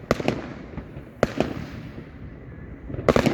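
Outdoor fireworks in Dovey pop and crackle in sharp, rapid bursts, some distant and some loud, with a dense cluster of cracks near the end.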